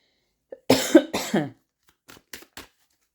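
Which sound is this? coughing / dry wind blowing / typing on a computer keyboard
coughing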